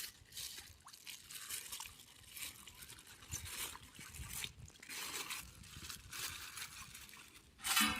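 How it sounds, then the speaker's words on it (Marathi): Raw chicken is washed in water beside a river. Repeated bursts of splashing, trickling and dripping rise and fall in a loose rhythm, close and moderately loud, with no talking. "आता चिकन धुवून घेते"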